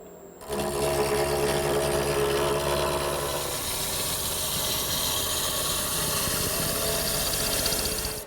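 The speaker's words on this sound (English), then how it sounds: "the first objective is to make it round, and for that I'm going to use my gouge" Wood lathe spinning a table column blank while a gouge rounds it, a steady loud motor hum with continuous rough cutting chatter, close and sustained for several seconds, no talk.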